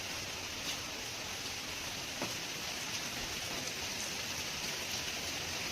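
Steady rain falls outside a balcony overlooking a lake at Taki near the India-Bangladesh border, a continuous close hiss of drops on surfaces with no breaks and no voices.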